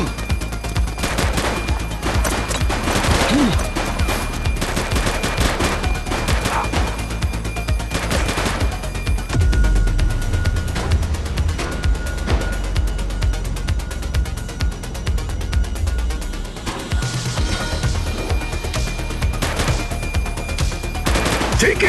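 Sustained gunfire in the police video game The Precincts, dense rapid bursts and shots running loud and continuous through the scene, with brief voice lines mixed in.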